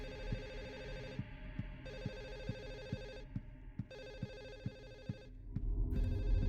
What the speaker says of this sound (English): Why can I hear that phone so clearly in, like, the opposite side of the apartment building?